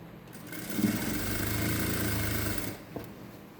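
A sewing machine runs steadily for about two seconds, stitching the shoulder seams of a kurti with a double stitch, starting up and stopping with a soft hum and close mechanical whir, no talking.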